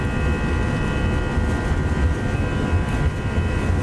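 A Toliss Airbus A319 in X-Plane 12 roars at takeoff power, a loud, steady low engine rumble with a faint whine layered on top.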